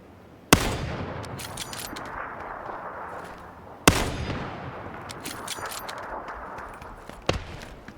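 Gunfire in the video game PUBG Battlegrounds: two loud, sharp shots a few seconds apart, each trailing a long rumbling echo, then a fainter crack near the end.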